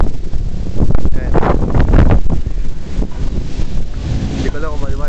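Strong wind on the rooftop of a house under construction buffets the microphone in loud, roaring gusts, with a voice speaking briefly partway through.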